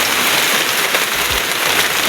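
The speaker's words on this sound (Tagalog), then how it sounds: "Biglang lumakas yung ulan." Heavy rain pours steadily onto a farm hut, a dense, loud, continuous hiss of drops drumming on the roof with no pauses.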